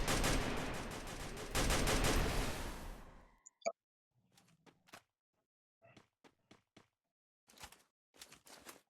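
Gunfire in the Free Fire mobile game: a loud, dense burst of rapid shots for about three seconds, then scattered single cracks and short clicks spaced out over near silence.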